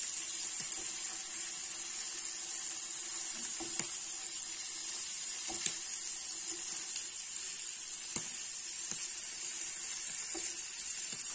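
Veal kidneys roasting in a pan, a steady faint hiss of sizzling fat with scattered small pops and clicks throughout, no talking.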